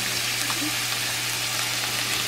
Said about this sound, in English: sear every side a little bit